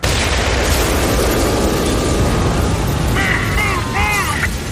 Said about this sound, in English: The explosion tore open the stone wall.